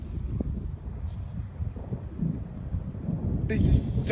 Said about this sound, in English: This is a very strong thunderstorm.